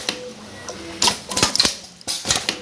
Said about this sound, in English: this machine with the labor hand can cut the zipper with a fancy puller very well